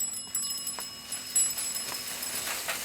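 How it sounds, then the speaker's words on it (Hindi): A bicycle bell rings in quick, bright metallic trills, several rapid rings in succession, fairly close and clear with no talk. "साइकिल की घंटी सुनाई नहीं देती?"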